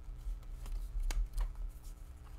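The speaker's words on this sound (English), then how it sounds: "remove the 3 wild cards from the deck and then shuffle the cards" A deck of tarot puzzle cards being shuffled by hand at close range, a series of soft papery riffles and sharp flicks in an uneven rhythm with no voices.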